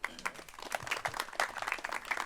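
A dedication ceremony audience claps at the Chehalem Ridge opening, a brief spatter of scattered hand claps at moderate volume.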